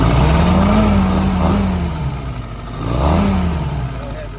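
Yanmar YS 950S tractor engine revving up and easing back twice in a loud, close rising-and-falling drone, a steady diesel rumble between the two pulls.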